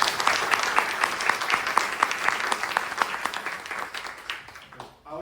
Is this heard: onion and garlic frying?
no